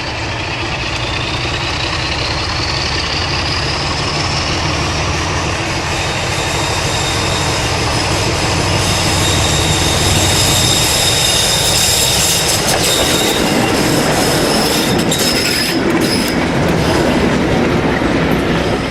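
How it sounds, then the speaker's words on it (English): Two diesel locomotives, Advenza's class 47 No. 47375 and D6737, round a curve at Staverton on the South Devon Railway, heavily laden. A loud, sustained engine drone lasts throughout, with rising tones, wheel squeal and rhythmic clickety-clack as the train passes close by. "Advenza's 47375 and the South Devon Railway's D6737 round the curve at Staverton in April 2008, heavily weighed down by excessive ironmongery."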